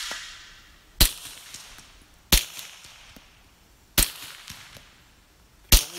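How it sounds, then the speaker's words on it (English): Poseidon 9mm 147 grain rounds fired into cans coated in petroleum jelly and wire pulling gel, four sharp, loud cracks spaced about a second apart with quiet gaps between. "147 grain ammo"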